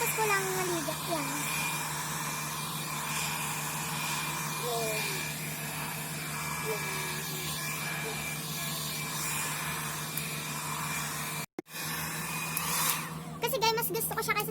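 A comb-style hair dryer blows a steady, close whooshing hum across freshly washed hair, cutting off briefly near the end and then restarting, while someone talks over it.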